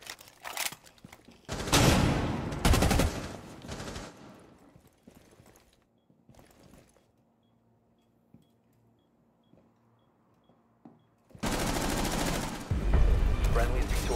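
Bursts of video game gunfire from a collegiate esports match rattle loudly at the start, fall to near silence with a few isolated clicks in the middle, then return as sustained rapid fire at the end.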